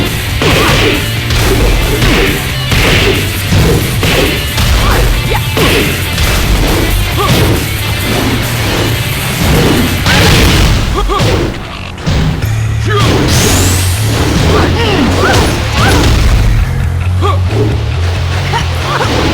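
Tekken 8 arcade-mode fight with Anna: a dense, loud stream of punches, kicks, smashes and whooshing strikes lands in rapid rhythm, backed by constant game music and effects.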